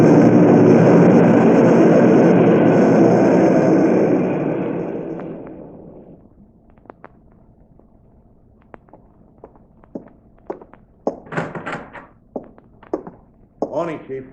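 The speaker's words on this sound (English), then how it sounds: "Hey, listen. The plane." A single airplane engine sound effect from a 1950s radio crime drama, a loud sustained drone that fades away over several seconds, followed by scattered thumps and faint noises.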